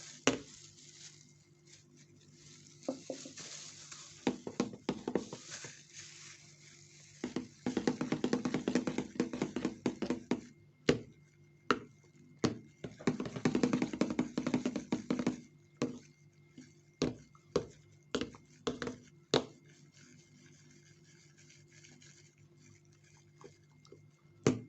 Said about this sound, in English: So I'll stir it in.